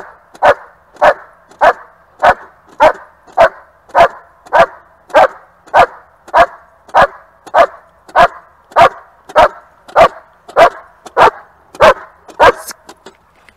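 A dog barks steadily and loudly in IGP bark-and-hold protection training, about twenty evenly spaced barks at roughly one per second, close by and alone with no talk.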